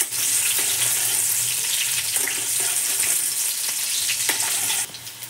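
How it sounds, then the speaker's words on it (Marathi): Green chillies frying in a few ladles of hot oil for sabudana khichdi, a dense, loud, continuous sizzle and crackle heard close up that drops off sharply just before the end. "बघा आपण इथं ना मिरच्या टाकतोय तेलामध्ये, त्या जरा परतून घ्यायच्या"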